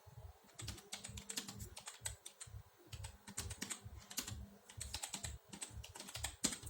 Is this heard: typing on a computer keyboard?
yes